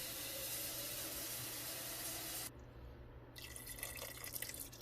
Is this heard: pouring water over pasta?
yes